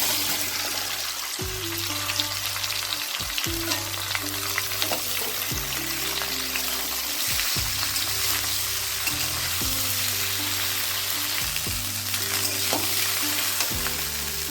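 Amla (Indian gooseberry) sizzling and frying in a spice tempering with dried red chillies and asafoetida, a continuous hiss with intermittent scraping stirs and a low background hum.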